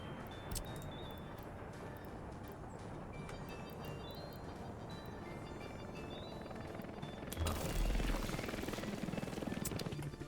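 A helicopter in the city-building game Workers and Resources approaches with a steady rotor drone that swells louder near the end, over low game ambience.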